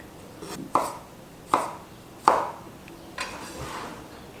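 Knife chopping through the stems of a bunched-up bundle of fresh herbs on a board, four distinct crisp cuts spaced about three-quarters of a second apart, close and clear with no talking.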